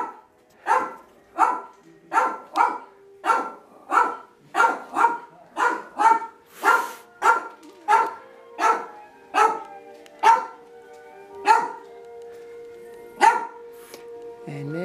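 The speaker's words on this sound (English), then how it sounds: "Look at these little puppies." Small puppies bark in a quick, loud, nearby series of sharp yips, about a dozen in steady rhythm that slows toward the end.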